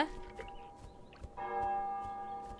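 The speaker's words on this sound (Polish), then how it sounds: "to są dzwony u mnie, czy u was? Raczej w grze" Church bells peal inside the Untitled Goose Game village, ringing steady sustained tones with a clear strike near the midpoint that swells the chime; fairly quiet overall with no talking.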